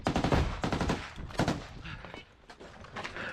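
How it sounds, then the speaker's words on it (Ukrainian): Rapid bursts of gunfire crackle in quick succession, loud at first, then a few scattered shots trailing off amid background noise, in combat at Klishchiivka. "Постріл!"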